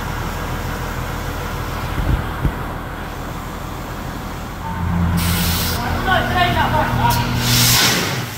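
Compressed air hisses loudly in a broad, continuous rush as an emergency valve is opened during mounting of new Mitas tyres on wagon wheels, with people talking over it and a few short bursts near the end.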